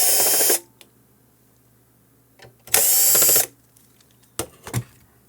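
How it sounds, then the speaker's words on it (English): Screws come out of the side of a ClearCom V-Series intercom panel under a power screwdriver, with two close buzzing bursts and a shorter third, separated by quiet pauses and small clicks. "Okay, now we're going to open the 2 side screws."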